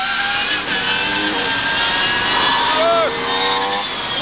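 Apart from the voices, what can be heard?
1993/94 DTM Mercedes C-Class race car engine while driving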